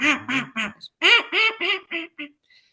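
A person imitates a high hen duck call with a handheld call, blowing a run of about ten loud, nasal quacks in close succession. The quacks are raised in pitch and grow shorter toward the end, with no talking.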